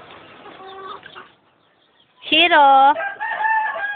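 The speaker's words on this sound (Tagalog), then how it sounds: "Ayun na daw sa manok eh" Chickens cluck and a rooster crows loudly and close by, a long harmonic crow rising mid-clip after softer clucking, with a person speaking briefly in the background.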